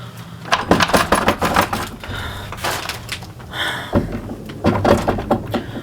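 A door shut and locked at night, a cluster of metallic clicks, rattles and handle knocks in close succession, moderately loud and near.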